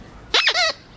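A puppy's squeaky dog toy gives a single sharp two-part squeak, loud and close, over quiet background.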